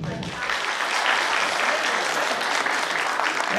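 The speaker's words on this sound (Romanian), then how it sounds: "Dacă v-a plăcut clovnul, aplaudați-l" An outdoor folklore and traditions festival audience applauds a clown, with thick, continuous crowd clapping that swells after a brief softer start and stays loud and steady, with some voices mixed in.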